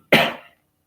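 A single sharp cough from someone who is sick, loud and close, with a short breathy tail that fades within half a second.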